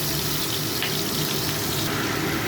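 Soaked spice paste hits hot oil in a pan after nigella seeds have fried, a steady loud hissing sizzle, continuous and close, while cooking a raw hilsa fish curry with eggplant.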